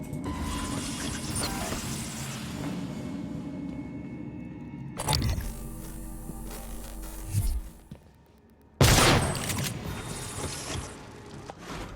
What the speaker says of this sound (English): Ready my shotgun.